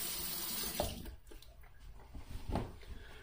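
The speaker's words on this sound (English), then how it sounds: "Let's rinse off." Tap water runs into a sink while a face is rinsed after a wet shave, with soft splashing and gurgling nearby, fairly faint, and a few brief splashes toward the end.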